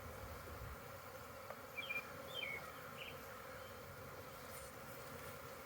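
Honey bees swarm around an opened beehive being split, a steady low buzzing hum throughout with a few brief closer wingbeat whines drifting past.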